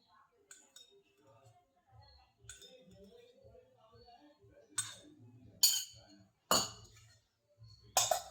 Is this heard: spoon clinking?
yes